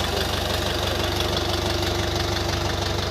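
A Scout 404 mini tractor's small diesel engine idling steadily nearby, a constant low rumble with a rapid knocking pulse and broad mechanical noise.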